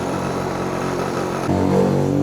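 A two-stroke Honda Win motorcycle engine idling loudly and steadily close by, then rising in pitch as it is revved, with no talk.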